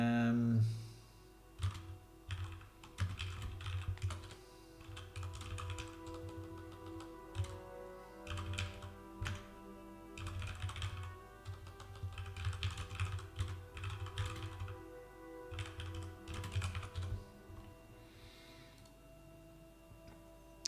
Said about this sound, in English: because I was typing and I don't know if I typed something in this